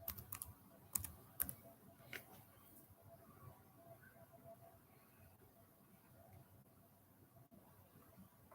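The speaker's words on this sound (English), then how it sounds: "I'm typing Emma Roberts." Keys clack on a computer keyboard in a quiet room, with a few sharp, close keystrokes at the start and then only faint scattered taps over a low background hum.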